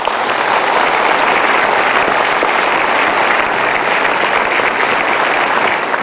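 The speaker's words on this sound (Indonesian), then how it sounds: "Mari kita berikan aplaus untuk Mister." A studio audience claps loudly at a television talk show, a dense, steady wash of applause that holds at an even level from start to finish with no voices over it.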